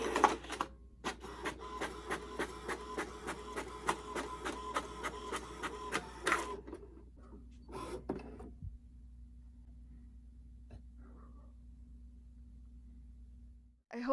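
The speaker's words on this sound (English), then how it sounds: "And now I will just click print." A home printer runs off small thank-you cards, whirring with a rapid, regular mechanical stutter for several seconds, then a few clunks and a low steady hum as it finishes.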